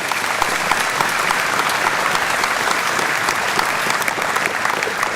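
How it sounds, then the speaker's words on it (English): An audience at a Reform UK local election rally in Basingstoke applauds a councillor, a dense, steady wash of clapping that holds loud and even from start to finish. "Let's have a round of applause"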